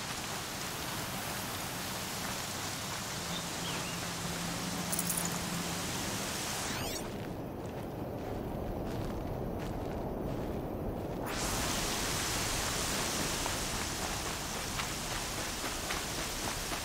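Rain in the video game Horizon Zero Dawn, a steady, dense hiss of falling rain that fills the whole stretch, with a brief dip partway through and no voices.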